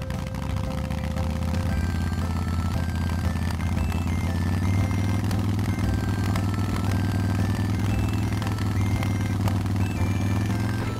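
Red toy motorcycle at an indoor playground running with a steady idling engine rumble, with light clattering and stepped rising tones layered over the continuous drone throughout.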